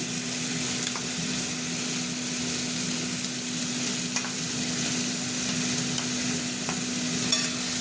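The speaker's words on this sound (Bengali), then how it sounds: "এবার চিংড়ি মাছগুলো দিয়ে দিচ্ছি।" Prawns and pointed gourd sizzle and fry steadily in a hot pan while being stirred, a continuous close crackling hiss with occasional scraping clicks and no voices.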